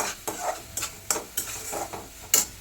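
Vegetables fry in oil in a kadhai for Bhogi bhaji while a spatula stirs them, giving repeated sharp scrapes in an uneven rhythm over a continuous soft sizzle, close and fairly loud.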